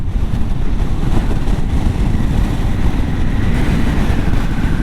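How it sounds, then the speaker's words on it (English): Heavy, constant wind buffeting roars across the microphone while riding a Pan America motorcycle on a high road, a loud, dense low rumble with no pauses. "That wind is trying to pull me."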